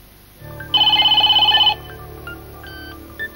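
A telephone in a 1992 Dutch children's TV advert rings with one loud, rapid trilling electronic burst over a low hum, followed by faint tones.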